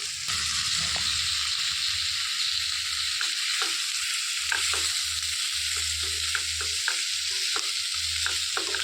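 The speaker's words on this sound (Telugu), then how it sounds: "మంచిగా ఈ నూనెలో ఒక రెండు సెకండ్ల పాటు మనకు వేయించుకోవాలి" Boiled bitter gourd pieces fry in oil for a spiced fry, a steady close sizzle running throughout with repeated scraping stirs of a spatula against the pan.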